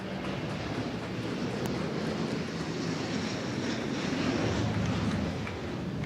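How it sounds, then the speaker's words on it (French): An Airbus airliner takes off from Guadeloupe bound for Paris, its engines a loud, continuous broadband roar that swells slightly and then eases, with no talk over it. "c'est un de nos avions qui décolle pour Paris"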